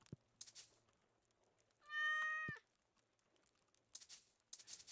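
A cat in Stardew Valley gives a single clear, drawn-out meow midway through an otherwise quiet stretch, with light rustling game sounds before and after.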